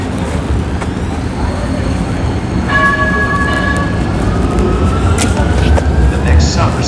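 A Calgary CTrain light rail train pulls into a downtown station in heavy rain, its steady rumble and hiss under falling rain and traffic, with tonal whines and a rising pitch as it nears; a voice speaks over it.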